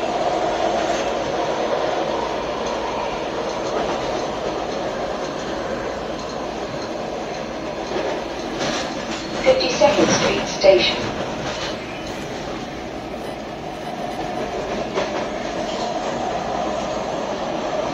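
Riding aboard SEPTA Market-Frankford L Line subway car 1161, with a steady loud rumble of wheels on track and a brief swell of clatter partway through, heard from inside the car.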